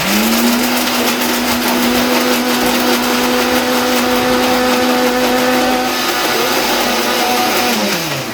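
A blender grinds cashews with water in a home kitchen, a loud, close, steady motor whine holding one pitch before winding down at the end, with no voices over it.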